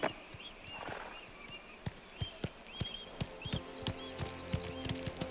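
Horse hooves clip-clop in steady, fairly close steps through a scene in the video game Mafia: The Old Country, with soft ambient background and a few sharper knocks mixed in.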